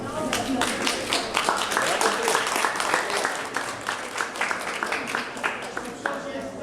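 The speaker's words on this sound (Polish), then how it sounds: "Brawa dla nas." Applause from a St. Nicholas visit audience, a steady wash of many hands clapping with sharp individual claps on top, mixed with chatter and children's voices throughout.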